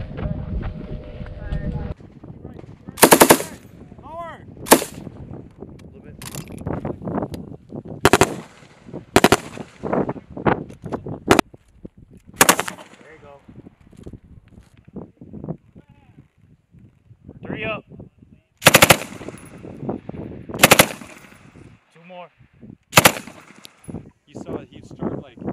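Squad automatic weapon machine gun fire on a military range, with several loud bursts and single shots spaced across the clip and voices talking between them.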